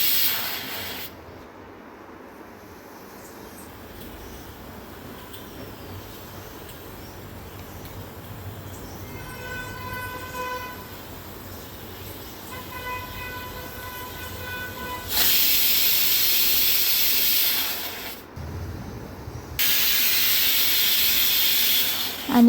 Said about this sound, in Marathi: आणि आता 3 शिट्ट्या झालेल्या आहेत